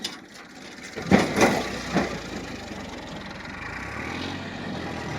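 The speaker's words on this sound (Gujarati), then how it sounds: "આ ટ્રેક્ટર આવી રહ્યું છે" A Massey Ferguson 1035 tractor engine chugs and idles nearby in a farm field with a few mechanical clanks and knocks early on, then settles into a steady rumble.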